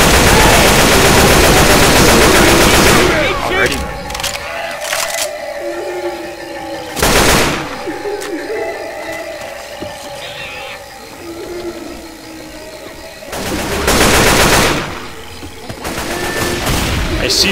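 Bursts of automatic gunfire from Left 4 Dead 2, loud sustained volleys at the start and again near the middle and end, with quieter stretches between where faint game sounds and some talk come through.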